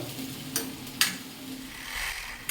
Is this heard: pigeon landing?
no